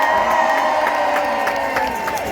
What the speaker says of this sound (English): For Nottingham people, let's hear you cheering.